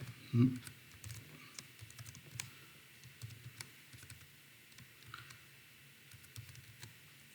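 Keys on a computer keyboard are tapped in light, irregular clicks, with one louder thump like the space bar near the start, close but quiet against a faint room hum.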